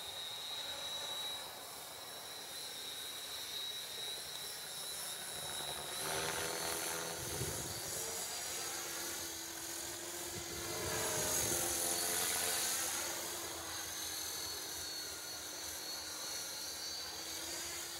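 A small RC model helicopter flies nearby, its high-pitched motor and rotor whine rising and falling in pitch as it maneuvers and flips, steady and moderately loud with no voices over it.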